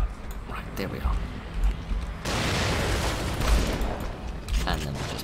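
Gunfire from enemies in the video game The Evil Within, a rapid rattling burst of shots and booming impacts that comes in partway through and keeps going, with game effects around it and no one talking.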